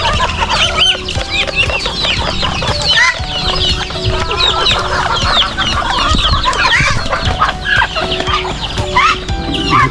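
A rooster and a mother duck scuffle on a farm, with a dense, continuous racket of loud clucking, squawks and quacking from many fowl, close and busy throughout.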